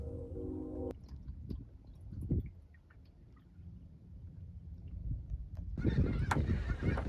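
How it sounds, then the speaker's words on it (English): A flock of snow geese honks at a national wildlife refuge, a steady mass of calls carrying from a distance, faint and layered over wind and low rumble, growing busier toward the end. "I made it back over to where all the snow geese are"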